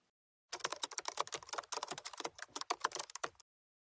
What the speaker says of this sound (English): When you type / on the keyboard